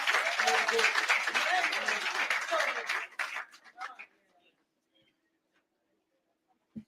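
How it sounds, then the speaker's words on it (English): An audience at a hospital ward opening ceremony applauds performers, with dense clapping for about three seconds that thins into scattered claps and fades to near silence. "Please give them a round of applause"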